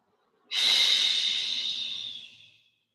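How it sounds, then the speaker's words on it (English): One long, deep exhale during a yin yoga session, a close breathy rush of air starting abruptly and fading out over about two seconds, heard in a quiet room. "Four more deep breaths."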